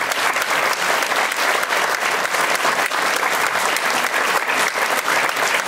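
A large festival audience at a gala finale of a Polish song festival breaks into loud, sustained applause, a dense, steady wash of clapping that holds evenly throughout without a break.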